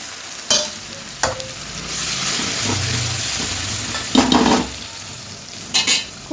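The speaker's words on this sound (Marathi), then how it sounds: "आपण आता तेल तर गरम झाले घे म्हणून थोडीशी मोहरी, हळद, जिरे हे टाकायचं" Mustard seeds, turmeric, cumin and chili-garlic paste sizzle in hot oil with a steady crackling hiss, broken by stirring scrapes and a few sharp clinks of a utensil against the pan.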